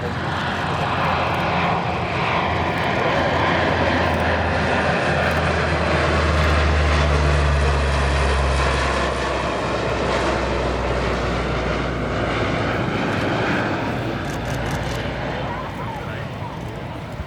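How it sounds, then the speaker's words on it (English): A C-130 turboprop flies with its door open, its engines making a loud, sustained droning roar that stays steady and close, with airflow rushing through the open door. "The C-130 flying with its door open."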